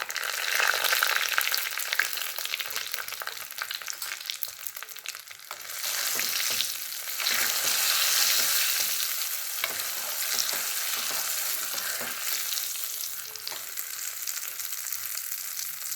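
Urad dal and dried red chillies frying in oil as a tempering for a shallot and garlic chutney, a loud, dense crackling sizzle with fluctuating intensity and occasional stirring sounds, no speech.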